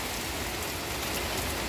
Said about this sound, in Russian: Хорошо, что дождик сегодня пошел.